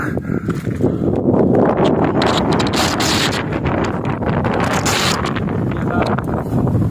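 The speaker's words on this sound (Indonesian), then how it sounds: "Anginnya kencang sekali di sini." Strong mountain wind buffets the microphone on Mount Egon in Flores, a loud, continuous roaring rush with gusting swells and no voices.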